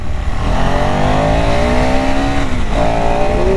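A KTM Enduro 390 motorcycle engine revs loud and close during a front wheelie, pitch climbing steadily, dipping briefly, then rising again.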